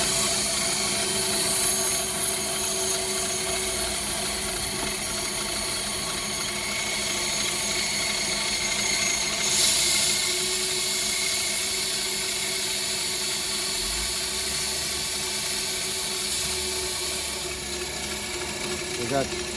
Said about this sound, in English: So turn on the bandsaw.